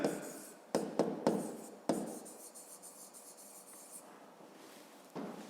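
Pen or pencil writing on paper while working a fifth-grade math exercise: close, soft scratching strokes with a few sharper taps as new marks begin, steady and alone without talk.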